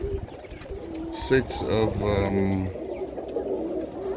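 Birmingham Roller pigeons coo in a loft, soft repeated throaty calls close by, with someone talking over and between them.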